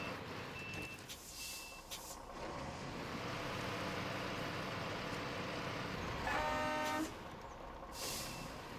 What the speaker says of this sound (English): my mic picks up my horn honking from my headset